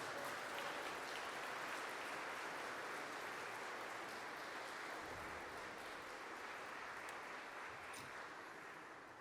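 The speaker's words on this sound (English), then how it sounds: "let's give him another round of applause" An audience at a church Christmas concert applauds in a steady, even wash of clapping that holds at a moderate level and tapers slightly at the end.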